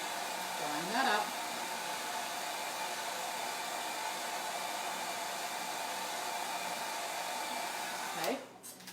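A hair dryer blows steadily on a freshly made craft piece, a continuous loud airy whoosh that runs almost unchanged, with brief voice sounds near the start and end before it cuts off.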